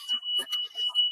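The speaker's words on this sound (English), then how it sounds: "Oh, hang on. That's the alarm." An alarm holds one thin, continuous high tone at moderate level while voices talk over it.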